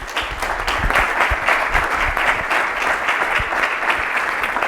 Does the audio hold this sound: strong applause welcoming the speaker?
yes